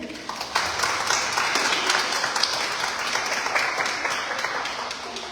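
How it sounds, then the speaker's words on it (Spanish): An audience applauds a speaker at an International Women's Day commemoration, a moderate, even wash of many hands clapping that holds steady for several seconds at a slight distance. "Les pido un gran aplauso para ella."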